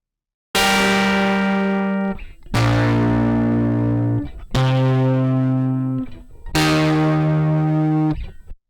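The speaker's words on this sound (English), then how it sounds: "It's nice analog distortion sound for the guitar" Four long, heavily distorted guitar chords ring out one after another, each sustained for a couple of seconds, loud and gritty, the guitar run through an analog-style distortion plugin.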